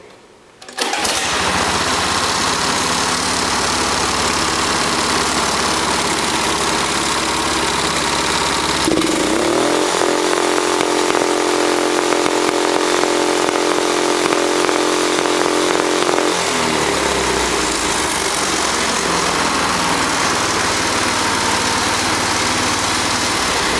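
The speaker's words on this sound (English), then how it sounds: "So we'll start it up and we'll mash the throttle and we'll see what it goes to." A go-kart engine roars loudly at full throttle, holding a high whine before the pitch shifts and it settles back into a steady drone.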